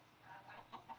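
A Minecraft chicken gives a few quiet, short clucks in the video game, two brief chirps standing out near the end.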